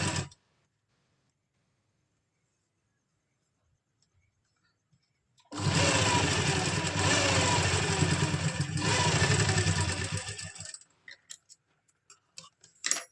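A sewing machine runs a continuous seam on Afghani salwar fabric for about five seconds amid quiet, its close, even mechanical whir ending in a few scattered handling clicks.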